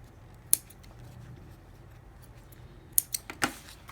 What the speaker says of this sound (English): Trim threads.